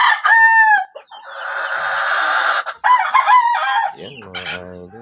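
A sweater gamefowl brood cock crows loud and close, several strained crowing calls in quick succession, followed by softer clucking at the end.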